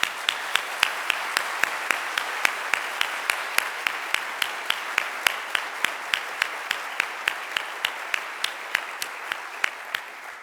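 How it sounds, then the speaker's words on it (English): Applause from an audience at a faculty address, greeting distinguished guests: steady, close, fairly loud clapping with sharp regular hand claps standing out above the crowd's wash. "a real round of applause for our distinguished guests"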